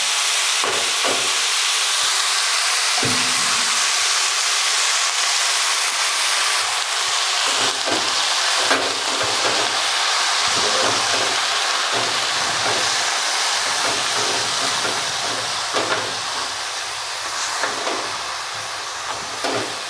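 Drained radish greens hit a hot pan of oil with cumin, mustard seeds and asafoetida, setting off a loud, steady hiss and sizzle that runs throughout, with faint stirring knocks scattered beneath.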